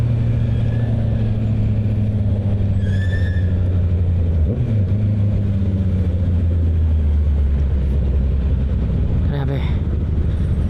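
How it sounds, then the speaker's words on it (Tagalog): Heavy rush-hour traffic in Metro Manila heard from a Honda CB650R motorcycle, with loud continuous engine rumble and droning, a shift as one vehicle revs, and faint horn-like tones and brief squeaks over the din. "Traffic."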